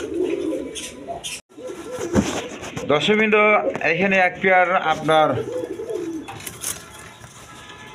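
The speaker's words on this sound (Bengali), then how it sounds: "হাই ফ্লাইং গিরিবাজ বাস কবুতর" High-flying Giribaz pigeons cooing, a series of soft rolling coos rising and falling in the middle, heard close under and between a man's speech.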